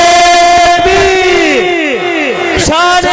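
A large crowd at a religious gathering chants the Nara-e-Takbir slogan in loud, repeated unison calls, several voices overlapping in falling, sustained shouts close by.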